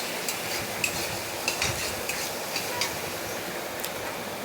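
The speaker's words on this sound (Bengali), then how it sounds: "মশলাটা ভাজা ভাজা করা হয়ে গেছে" Spices fry in a pan of leftover fish-frying oil while a utensil stirs them, giving soft sizzling under a run of scraping strokes and light metallic taps, close and fairly quiet, with no talking.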